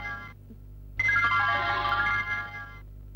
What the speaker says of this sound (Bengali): ম্যাডাম আপনার ফোন।